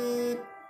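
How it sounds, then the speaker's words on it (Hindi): An electronic alarm clock rings with a steady, loud, high-pitched electronic tone that cuts off abruptly partway through, leaving a faint fading tail. "वो अलार्म बज रहा था"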